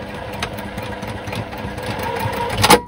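A straight-stitch sewing machine runs steadily through fabric, seaming a blouse cut from denim or yukata cloth, a continuous mid-pitched mechanical whir at close range with light rhythmic ticking and a slight swell near the end.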